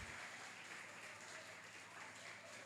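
A church congregation claps during a morning worship service, a soft but steady spread of many hands at some distance, continuous for the few seconds.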